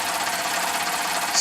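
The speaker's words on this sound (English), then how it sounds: "Numbers 1, 2, 3 and 4 peak engines, all running via the Victoria boiler. It's on air at the moment." Four small Peake steam engines run together on compressed air fed through a Victoria boiler, making a steady, fast mechanical chuffing and whirring with a brighter hiss rising at the very end, close and constant.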